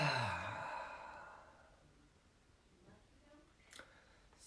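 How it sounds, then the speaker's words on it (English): A single deep breath taken during a guided healing session, a long audible exhale that starts strong and fades into near silence, with faint small noises afterward. "let's take a deep breath"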